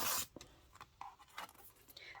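A rotary-style cut through quilting fabric along a ruler on a cutting mat makes a few faint, close scratchy swipes and small clicks after a brief louder burst at the start, quiet overall.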